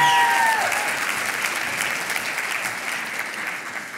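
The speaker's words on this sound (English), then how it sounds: "Give her a round of applause." An audience applauds at a feng shui talk, steady dense clapping that starts loud and tapers gradually, with a brief faint whistle or tone at the very start.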